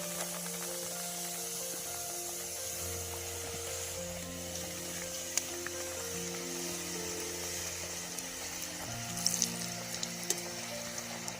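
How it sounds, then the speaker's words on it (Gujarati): Steady crackling and sizzling of small puris deep frying in hot peanut oil, continuous throughout with a low mechanical hum underneath and no talking. "આ પૂરી તળાઈ રહ્યા હે"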